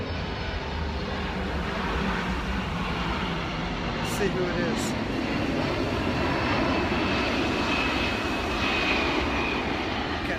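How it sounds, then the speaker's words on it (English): A propeller or jet airplane passes overhead outdoors, a steady broadband engine drone filling the whole stretch at fairly constant loudness, with someone talking briefly over it. "a plane is coming over"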